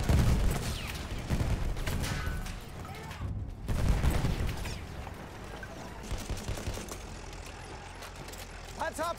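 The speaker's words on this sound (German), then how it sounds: "Ein Maschinengewehr!" Machine gun fire in Battlefield 1 rattles in rapid, dense bursts with mechanical clatter, loud and close, with a brief lull partway through and faint in-game voices underneath.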